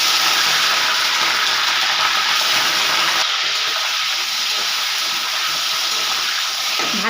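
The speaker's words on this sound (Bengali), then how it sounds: "ফুলকপিগুলো আমি ভেজে নেব।" Cauliflower florets fry in hot white oil with a loud, continuous close-up hiss and crackle that eases slightly partway through, with no voices over it.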